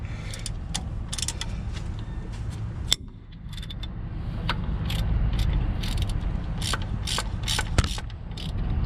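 A ratchet wrench clicks in close, uneven bursts as it loosens 14 mm bolts on a Toyota 4Runner rear axle, over a steady low background hum.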